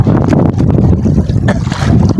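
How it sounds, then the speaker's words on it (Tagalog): Strong wind buffets the microphone in loud, gusty rumbles during hand-line fishing at sea, with splashing water and a boat's motion underneath. "Lalo na lumakas pa yung hangin."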